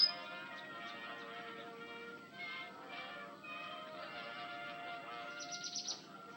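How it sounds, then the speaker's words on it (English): Birds at a birdhouse in the video game Amanda the Adventurer 2 chirp faintly and steadily over a soft, sustained musical background. "They're so pretty, and their chirps are so quiet, so peaceful."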